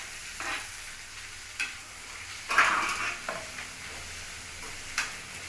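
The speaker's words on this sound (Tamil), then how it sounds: "இப்போ தக்காளி போட்டுடலாம்." Tomatoes fry and sizzle in a pan while being stirred, with several distinct scraping and clinking stirs against the metal standing out over the steady sizzle, close and clear with no talk.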